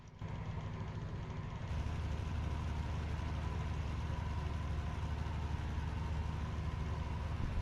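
GT3 race car engine in a sim racing game, a steady, loud, droning engine note at constant high revs that holds evenly throughout, with no talking.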